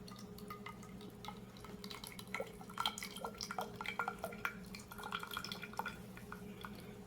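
Water drips and trickles off an irregular solid lifted out of a container during a density measurement, with quiet, scattered drops and faint splashing close by over a low background hum.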